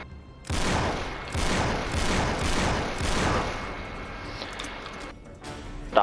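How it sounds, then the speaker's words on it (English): Shotgun fire in the video game Uncharted 3: a rapid run of about five loud blasts in quick succession, followed by quieter clatter. "Didn't realise he had a shotgun."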